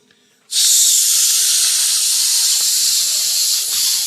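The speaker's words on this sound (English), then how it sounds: "So you know what that means. Steam release." A loud, steady steam release hiss bursts in abruptly after a brief quiet moment and holds broadband and unbroken for several seconds, easing slightly near the end.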